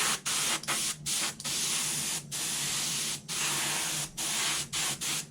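PVA release agent hisses from a spray gun onto a mold part made with high-temp surface coat, in repeated close bursts broken by brief pauses.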